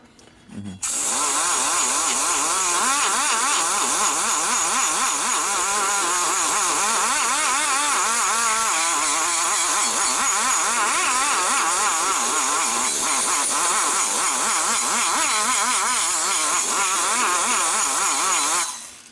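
Rotary cutter grinding and porting the cylinder head of a 2005 Harley-Davidson Sportster XL 1200, a loud, continuous high-pitched whine that starts abruptly and holds steady with slight wavering as the bit moves.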